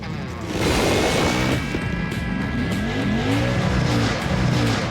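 Murder Nova's drag car roars at full throttle through a test hit, a loud continuous engine drone with rising and falling revs and some tire noise, sustained across the whole stretch.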